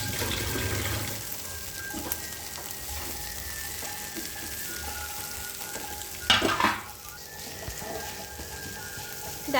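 Chow mein sizzles and fries in a pan as it is stirred, a steady soft crackle with a brief louder scraping burst partway through.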